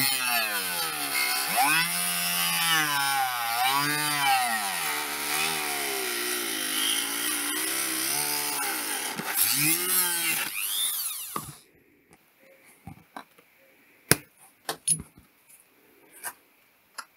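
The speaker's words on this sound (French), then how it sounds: "je peux ajuster un petit peu à la Dremel" A Dremel rotary tool trims a roughly cut sheet for a homemade cheek rest, whining loudly and steadily with pitch dips as it bites, then stopping, followed by a few faint clicks and taps.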